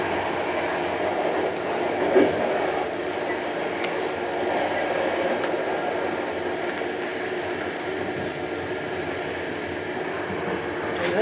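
An EIC Kaszub passenger train braking while passing through Ciechanów, a steady rumbling roar of wheels on rail with faint squeals and clicks, heard close and loud from on board throughout.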